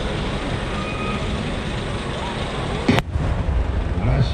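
Deep rumbling booms of a fireworks display finale at Nagashima Onsen, Japan, over a steady roar, with a sharp, loud burst near the end followed by more rolling rumble.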